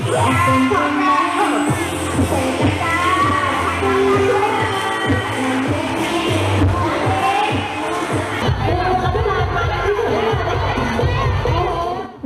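A large crowd of schoolchildren below a stage cheers and shouts continuously, with loud whoops and excited voices overlapping throughout. Near the end the clamour thins slightly.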